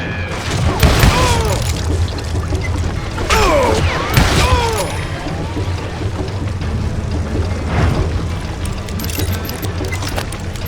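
Dynamite blasts in the Wild West shooter Call of Juarez: Gunslinger, loud booms with crashing debris rolling out over a dense mix of gunfire and game noise, with a voice shouting at the start.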